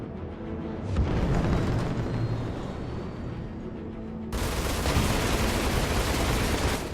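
Rapid Gatling gun and laser fire from a fighter ship in Arena Commander, a dense continuous stream of shots in two sustained bursts with a sharp change in tone midway, loud and close.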